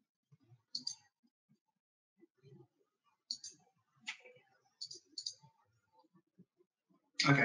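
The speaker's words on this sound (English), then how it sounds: "Clicking to submit those changes" A computer mouse clicks sharply in small pairs and singles, spread out across quiet stretches while someone works in structural design software, with faint low murmurs between and a louder burst at the end.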